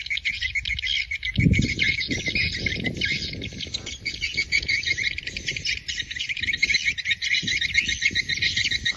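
Dense, high-pitched chirping from many swiftlets inside a swiftlet house fills the air continuously, with lower rustling and clattering sounds underneath.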